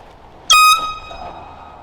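Air horn sounding on a disc golf course, one short loud blast of about a quarter second with faint outdoor ambience around it.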